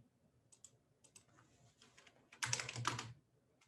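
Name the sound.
typing on a computer keyboard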